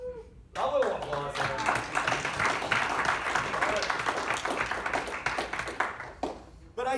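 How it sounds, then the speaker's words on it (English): An audience at a Republican club meeting breaks into applause that fills most of the moment, dense clapping rising abruptly after a brief pause, with a voice near the start and end. "But, a little applause."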